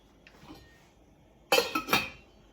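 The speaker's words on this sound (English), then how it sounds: "I'm going to put on that lid so it heats up and starts cooking" A metal pot lid clanks down onto a pot, a loud rattling clatter of a few quick hits after a faint softer clink.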